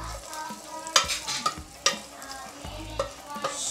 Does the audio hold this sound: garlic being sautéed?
yes